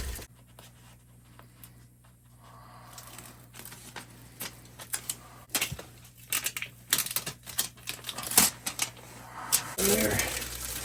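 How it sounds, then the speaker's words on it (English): Tape is pulled and pressed down to patch something in an off-grid winter setting, making scattered crinkling, ripping and tapping sounds at close range, with brief pauses between them. "I'll try to tape that in."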